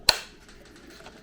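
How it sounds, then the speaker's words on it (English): One sharp, close click as part of a Dyson cordless vacuum cleaner assembly snaps into place, followed by quiet. "this is just going to click in from the bottom, and it's going to click right here."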